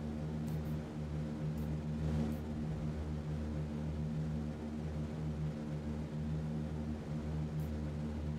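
Engines of a B-17 bomber taking off in a flight simulator game, an even, unbroken propeller drone with a low hum running throughout at moderate volume.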